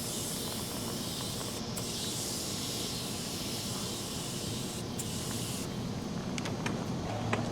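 Super Clean Foaming Degreaser is sprayed from a trigger spray bottle. The result is a close, sustained hissing spray with brief pauses between pumps and a few sharper clicks near the end.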